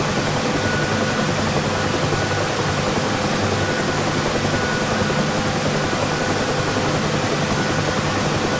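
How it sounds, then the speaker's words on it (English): A UH-1 Huey helicopter hovers low in the DCS flight simulator game, its engine and rotor producing a constant loud, broadband whooshing drone that stays steady throughout with no voices. "I will now bring the helicopter to a low altitude hover as demonstrated in the pickup lesson."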